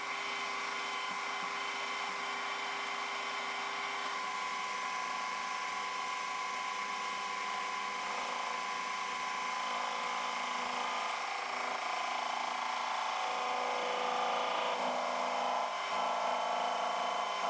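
A metal lathe takes a light skim cut across a tailstock chuck part with a freshly smoothed weld, giving a steady, continuous whine with a faint hum beneath, moderately quiet and unchanging for the whole span with no talking.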